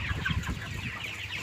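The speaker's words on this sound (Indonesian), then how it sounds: "kali ini kita jalan-jalan ke kandang ayam" Chickens cluck in a coop on a poultry farm producing about 35,000 birds a month, with several overlapping close clucks and murmurs in an uneven, busy rhythm, and no talking.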